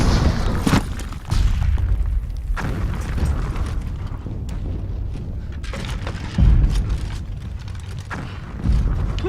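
Artillery shells explode in a battlefield scene of a 2017 war film, heavy booming blasts landing at intervals over a rumbling, crackling background, several impacts loud and close.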